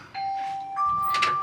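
Electronic two-tone ding-dong chime at the Formula 1 exhibition in London's ExCeL Centre, a clear pair of sustained notes sounding close against a busy indoor hall background.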